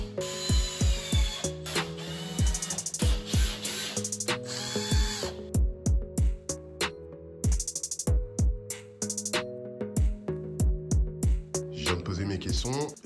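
A cordless power tool drives screws into kitchen cabinet feet during a kitchen renovation, its motor whirring in repeated short bursts with ratcheting clicks in between and pauses between runs.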